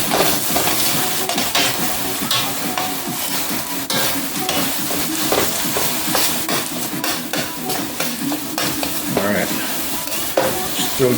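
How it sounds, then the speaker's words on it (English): Beef curry lasagna ingredients sauté in a pan over a medium flame, a steady close sizzle threaded with frequent stirring scrapes and clicks of a utensil, continuous and busy throughout. "still getting sauteed."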